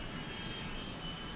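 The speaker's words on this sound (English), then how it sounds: "you can hear these majestic P51s and P63 goes by" P-51 and P-63 racing airplanes fly past at an unlimited-class national championship air race, heard as a faint, steady, distant piston-engine roar.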